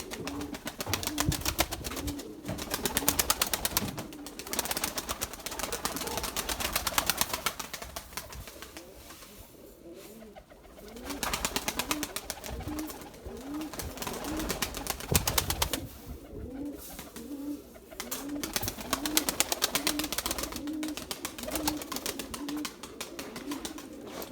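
Erzurum white pigeons, a purebred Turkish breeding flock, coo repeatedly in a loft, with steady rhythmic coos running throughout at moderate closeness and no talk over them.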